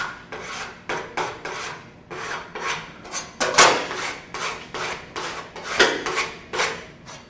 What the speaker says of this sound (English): You can use deburring tools, you can use file. This one's got the built-in handle,